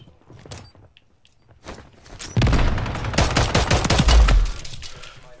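Default pistol fire in a first-person shooter game: a quick run of sharp, closely spaced shots breaks out after a quiet stretch with faint footsteps, then a louder flurry of gunfire follows.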